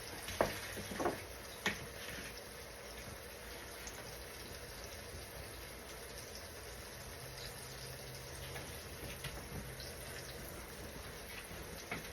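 Beef pot roast searing in a hot pan, a steady low sizzle throughout with a few faint clicks and clatters early on.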